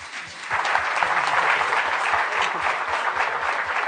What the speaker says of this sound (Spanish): Por favor, le damos un fuerte aplauso a nuestros panelistas.